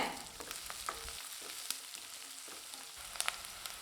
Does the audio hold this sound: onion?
yes